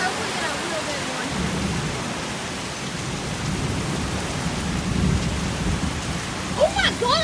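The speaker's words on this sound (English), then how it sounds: "Look at the rain coming off the top of that house down there." Heavy rain pours steadily on a house roof, with low thunder rumbling underneath throughout and a few brief voices near the end.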